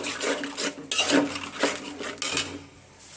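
A spoon scrapes and stirs spice paste of turmeric, chili and coriander powders as it fries in a pan, with repeated close metallic clinks and a soft sizzle between strokes, and no voices.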